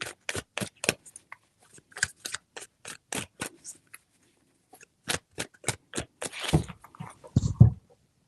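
Tarot cards handled close by in a string of short, crisp snaps and flicks at an even pace, a brief pause, then more snaps ending in a soft shuffling rustle, fairly quiet with no speech.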